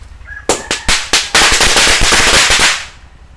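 Loud firecrackers go off in a frying pan in a rapid string, a few separate sharp bangs quickly merging into a dense crackling burst that fades after about two seconds.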